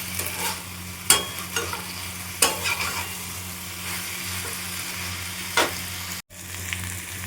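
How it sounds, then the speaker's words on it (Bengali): Vegetables stirred and fried in a masala in a pan, with a steady sizzle throughout and several sharp clinks of a utensil scraping and knocking the pan, no talk. "পুরো সবজিটা দিয়ে দিলাম মশলার মধ্যে পুরো মিক্স করে দিই"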